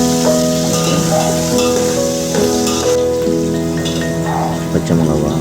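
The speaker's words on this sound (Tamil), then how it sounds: "பூண்டு சேர்த்து கொஞ்சம் வதக்கிறோம்" Onion and garlic sauté in a pan with a steady, close-up sizzle. A continuous music-like tonal bed runs over it, with occasional soft stirring clinks.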